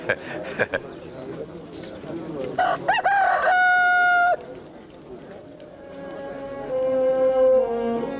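A rooster crows once, loud and near, its long call rising and then holding steady, with a second, fainter crow trailing off afterward. The calls come amid a biblical film scene, with talk and background sound around them.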